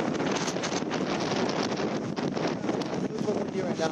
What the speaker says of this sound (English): Super windy right now.